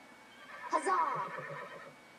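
Horses neigh and whinny together in an interactive voice-assistant story game, a bright shrill whinny rising near the start, then a busy, fairly close chorus of overlapping neighs that fades gradually.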